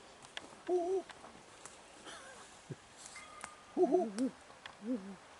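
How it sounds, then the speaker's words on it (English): A great gray owl gives several soft, low hoots in short clusters, close by, against a quiet outdoor background. "Great gray. Largest U.S. owl."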